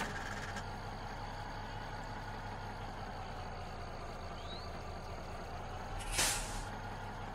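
A MAZ 7310 heavy tractor truck in Spintires rumbles at a steady low idle, with a sharp hissing air-brake release near the end standing out clearly over the engine drone.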